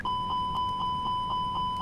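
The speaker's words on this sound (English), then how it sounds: "And it's going to just keep beeping until it's out of overspeed." An aircraft overspeed warning in a flight simulator, a rapid series of evenly spaced electronic beeps repeating steadily over a constant tone, with no talk.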